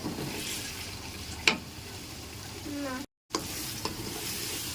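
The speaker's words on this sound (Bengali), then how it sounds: "এখন টমেটো আর পেঁয়াজগুলো আর একটু ভেজে নেব।" Tomatoes and onions fry in a pan with a steady low sizzle, broken by a few stirring scrapes and one brief sharp clatter.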